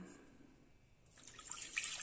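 A liter of water mixed with a bouillon cube is poured into a pot of garlic cream soup thickened with flour, giving a soft splashing trickle that begins after a quiet moment and builds slightly.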